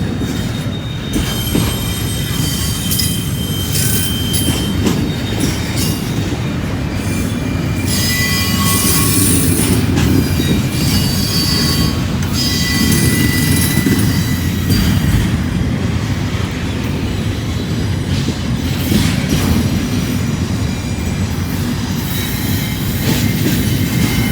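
Freight train wheels squeal steadily as railcars grind through a curve, a loud continuous high-pitched screech with rolling rail rumble underneath, no talking.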